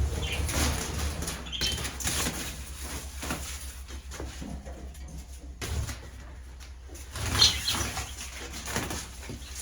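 Bursts of fluttering wing flaps from budgies being caught come and go close by, mixed with rustling and soft bumps in a small enclosed space.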